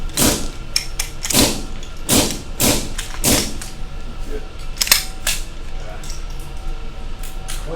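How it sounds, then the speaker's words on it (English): Metal clicks and clacks from a pistol as a magazine is inserted and the slide is closed during live-fire malfunction-clearing training, a series of sharp, close mechanical snaps spread through the moment with no voices. "go ahead and insert your magazine and gently close the slide."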